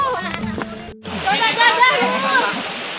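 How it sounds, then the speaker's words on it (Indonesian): Way Asahan waterfall in Lampung Barat, a steady broadband rush of falling water, loud and constant, with people talking over it and a brief break near the start. "sudah sampai di Air Terjun Wai Asahan"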